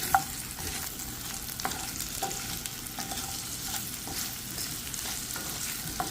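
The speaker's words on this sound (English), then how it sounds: "I'm going to give a pinch of salt in my dish and move everything around." Potatoes and vegetables sizzle steadily in a pan over a medium flame, with occasional scrapes and knocks as they are stirred; a constant close frying hiss runs throughout with no voices.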